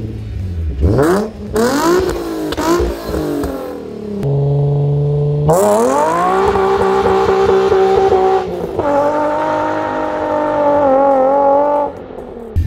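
A Nissan 350Z sports car engine revs hard several times, rising and falling in pitch, then holds a loud, sustained roar close by.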